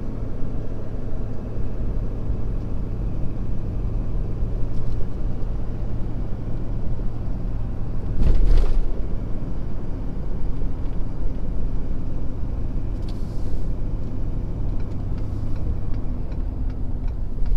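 From inside the cab, a Ford 6.7 Powerstroke diesel pickup tows a trailer in fourth gear at about 1600 RPM, a steady low rumbling drone with a brief louder clunk midway.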